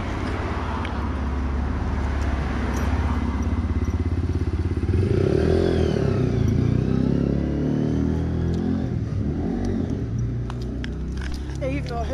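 A Lexmoto LXR 125 motorcycle engine runs steadily and loud throughout, with a rising rev around the middle and some clatter, while people talk nearby over it.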